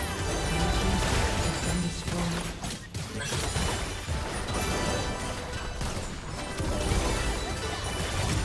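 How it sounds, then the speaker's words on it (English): A turret is destroyed in a League of Legends match, a dense, loud crashing and smashing burst layered over continuous game effects and music that stay at full level throughout. "Red team's turret has been destroyed."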